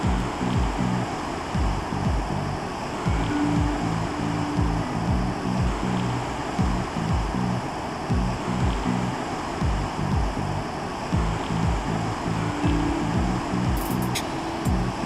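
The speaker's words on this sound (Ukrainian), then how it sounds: "Це океан, це такий я стою на такому ніби як на обриві." Ocean surf on Tenerife breaking below a cliff near a beach, heard from above on the clifftop; a steady, broad wash of waves with gentle swells in loudness and no talk.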